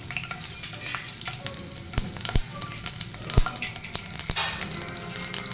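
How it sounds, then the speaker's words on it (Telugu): Garlic cloves and green chilies fry in a pan for pudina chutney, a steady close sizzle broken by several sharp stirring clicks and scrapes, with no talking. "అండ్ పచ్చిమిర్చి వేసుకొని బాగా ఫ్రై అవ్వనిద్దాము"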